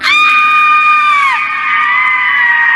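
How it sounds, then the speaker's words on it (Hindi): A woman named Kavya lets out a loud, high scream from outside, a sustained piercing cry that holds steady for over a second, then trails into a long, fainter wail. "तभी बाहर से काव्या की जोरदार चीख सुनाई दी"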